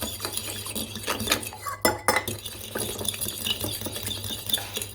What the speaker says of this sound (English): So let me mix again.